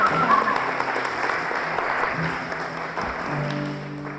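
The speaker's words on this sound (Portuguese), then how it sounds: "Aplauda a palavra do Senhor." A church congregation applauds during a sermon, dense sustained clapping from many hands that fills the room and slowly fades toward the end.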